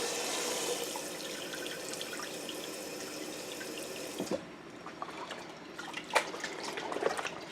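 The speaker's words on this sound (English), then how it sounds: "put a little bit cold water in because it's hot" Cold tap water runs into a washing machine, a soft, steady gush that stops partway through, followed by quiet drips and small splashes.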